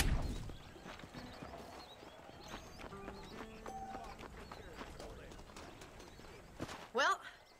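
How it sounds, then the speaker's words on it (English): Horse hooves clip-clopping in the video game Red Dead Redemption, a steady trotting rhythm of a dark brown horse under faint ambient sound, with a brief louder snort or whinny near the end. "Special dark brown horse with a light mane,"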